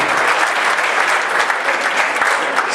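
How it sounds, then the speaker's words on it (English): Audience at a community council annual breakfast giving a brief, dense round of applause, steady and continuous with no talk over it. "Give him a big round of applause and all the support."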